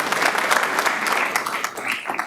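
An audience applauding students at a school board meeting, a continuous round of clapping from a room full of people, fairly loud and steady throughout.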